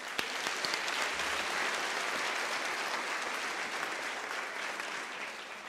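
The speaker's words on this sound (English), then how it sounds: "I believe it is quite proper that we give Professor Tlale another round of applause." Steady round of audience applause for Professor Tlale at a university autumn graduation ceremony, sustained dense clapping from a large crowd, even in level and fading slightly toward the end, with no talk over it.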